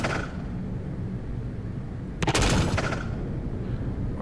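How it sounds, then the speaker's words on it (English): Gunfire rakes a patrol vessel in a naval combat video game, a dense burst of rapid shots arriving loud and close about halfway through over a steady rumble of engine and ambience. "Something's shooting at me."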